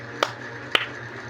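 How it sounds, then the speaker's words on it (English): Two sharp hand claps about half a second apart, given for a student's correct answer in a science class, crisp and close over a faint low hum, with no talking. "Let us give 2 claps to Kent."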